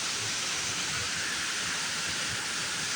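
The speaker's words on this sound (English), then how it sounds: "Wow, look at those waterfalls" Mambukal waterfalls near Murcia, Bacolod, Philippines, roaring as a steady broadband rush of falling water, loud and constant throughout with no talk.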